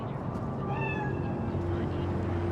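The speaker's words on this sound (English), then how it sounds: "It is a cat spirit." A cat meows in the video game Cyberpunk 2077, one drawn-out wavering meow heard over a steady low in-game hum and faint background voices.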